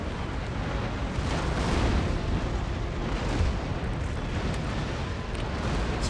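Warship cannons firing round shot in an Empire: Total War naval battle, a dense continuous rumble of heavy booms and blasts blending into a sustained roar, loud throughout with no talking.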